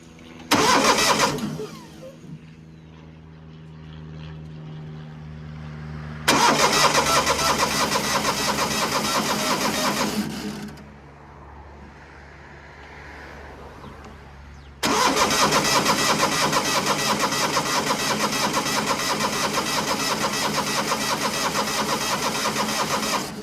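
A 1970s skid steer engine cranks and runs in rough bursts, a loud mid-pitched roar that cuts out and restarts, bogging down under load and dropping to a low idle between surges, with no talking.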